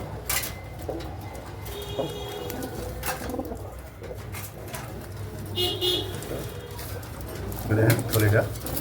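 A pigeon cooing in soft, low repeated phrases with a brief louder burst near the end, heard under someone talking, with faint street noise and a distant horn.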